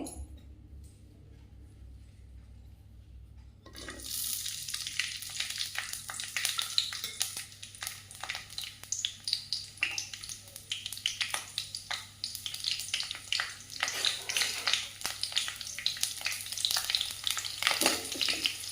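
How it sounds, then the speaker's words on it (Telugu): Steady crackling sizzle of green chillies frying in hot oil begins after a quiet start, with occasional stirring scrapes, close and continuous. "ఆయిల్ వేడి అయిన తర్వాత ఇందులో పచ్చిమిరపకాయలు వేయించుకోవాలి"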